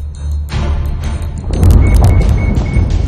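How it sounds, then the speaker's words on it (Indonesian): A large explosion at a logistics warehouse in Tashkent, Uzbekistan, rumbles as a loud, sustained roar with deep low-end boom and crackling debris noise, swelling louder in the second half. "Sebuah ledakan besar terjadi di Tashkent, Uzbekistan."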